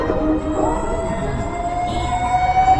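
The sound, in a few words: ambulance siren passing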